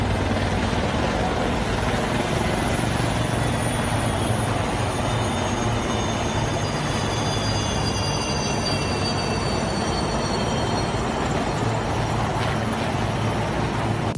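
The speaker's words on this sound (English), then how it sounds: "These South African Air Force helicopters flying in a huge formation." A large formation of South African Air Force helicopters makes a loud, dense, unbroken rotor and engine roar, with faint high whines drifting over it throughout.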